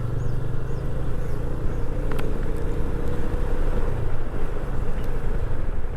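A car turning back on a rain-soaked road near Gorai village, heard as a steady, moderately loud engine and road rumble with wind buffeting the microphone throughout.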